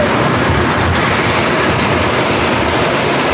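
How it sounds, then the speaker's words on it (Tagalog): Steady heavy rain roars continuously, a dense even hiss filling the air with no pauses and no voices. "Ulan pa."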